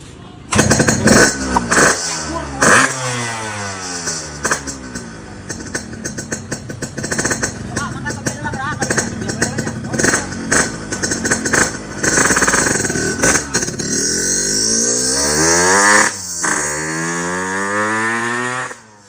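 A motorcycle engine starting up and running, loud and close, with a rough buzzing idle that repeatedly revs up and down in rising and falling sweeps through most of the clip.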